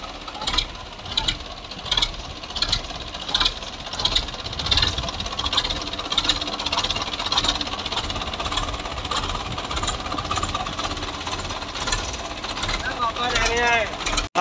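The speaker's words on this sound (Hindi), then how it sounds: "साउंड भी ट्रैक्टर का जबरदस्त आ, वेख लो आवाज" A 1979 model tractor engine idles close by with a steady, heavy knocking beat that thuds evenly throughout, and some voices are heard faintly in the background.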